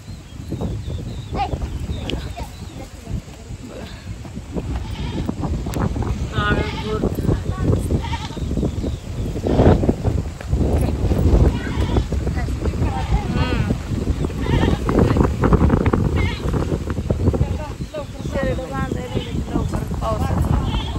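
Goats bleat repeatedly over gusty, rumbling wind noise as rain approaches at a village shelter, with voices talking intermittently nearby.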